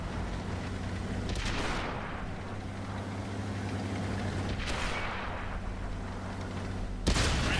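Tank cannon fire in World of Tanks, with sharp booming blasts at the start, in the middle and near the end over a continuous rumbling engine drone, loud and close.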